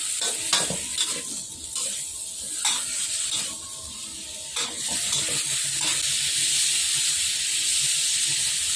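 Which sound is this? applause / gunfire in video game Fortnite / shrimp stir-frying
shrimp stir-frying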